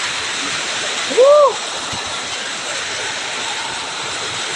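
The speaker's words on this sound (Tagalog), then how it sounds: "Ay! Lakas ang ulan, guys!" Heavy rain pours steadily as a dense, broadband wash throughout, with a brief exclamation from a voice near the start.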